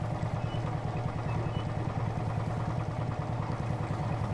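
A tractor engine in a farm machinery mechanic video game runs at a steady low idle. The drone throbs evenly and continuously with no talk over it.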